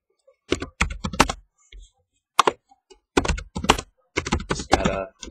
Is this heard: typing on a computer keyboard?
yes